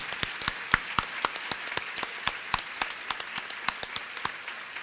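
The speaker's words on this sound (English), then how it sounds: "can we have a round of applause for the staff here at Appleton Hilton Paper Valley Hotel?" A handful of people at a luncheon in the Appleton Hilton Paper Valley Hotel clap for the staff, sparse distinct handclaps in an uneven rhythm, fairly close and moderately loud.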